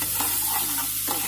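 Soy sauce sizzling loudly in a hot frying pan, a dense, continuous hiss heard up close with no talking.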